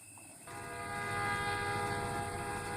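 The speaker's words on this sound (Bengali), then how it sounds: "ওই যে তোর ট্রেন এসে গেছে রে" A train pulls into a station in a horror story scene, its sustained horn or whistle rising in loudness over a rumbling rail background after a quieter start.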